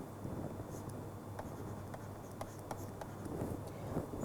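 During a lecture, chalk or a marker scrapes and taps on a board in short, irregular strokes, faint against a low background hum with no speech.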